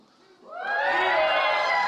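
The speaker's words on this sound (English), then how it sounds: "Give me a cheer if you're from a public school" An audience at a teen gala cheers, the sound rising from quiet into a sustained, loud mass of shouts and high voices that holds to the end.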